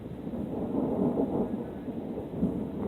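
Thunder rumbles in a steady low roll during a storm of constant lightning, moderately loud and unbroken, with a faint rain-like hiss underneath.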